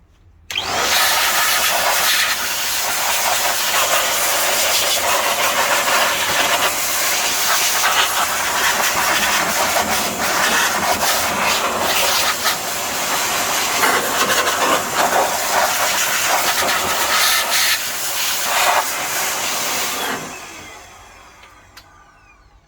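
Air duster blowing dust out of a 1973 Kenwood KR-2300 AM/FM receiver amplifier, one long continuous loud hiss lasting about twenty seconds, close up, then cutting off.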